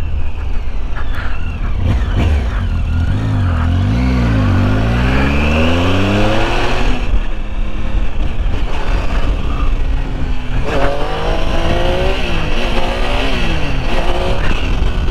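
A Triumph Tiger 800 XC motorcycle engine revs hard and loud nearby, its pitch climbing and falling in repeated sweeps as the throttle is opened and eased during wheelie riding.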